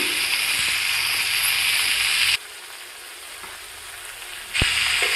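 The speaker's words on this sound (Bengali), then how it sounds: "কড়াইয়ে সবজিগুলোকে খুন্তির দ্বারা ভালোভাবে নাড়াচাড়া করে নুনটাকে মিশিয়ে দেওয়া হলো" Spinach and other vegetables frying in a wok with salt, a bright sizzle that drops away suddenly midway, then returns with a sharp clank of the spatula.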